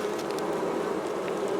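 Honey bees at a hive in spring drone in a steady, close, continuous buzz, with no voices.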